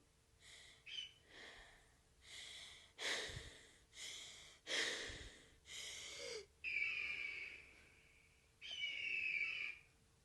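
A person imitates an eagle's call with a series of breathy, wheezing screeches, about eight loud bursts with short gaps, the last two longer and more tonal.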